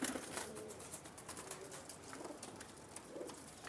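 Selected pigeons, racing and breeding birds with colour markings, coo softly and repeatedly in a loft, several low calls overlapping close by amid a steady background hum.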